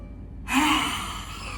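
A deep inhalation during a yoga breathing exercise for cough and phlegm, a single long, close breath in that swells quickly and then slowly eases off, heard alone.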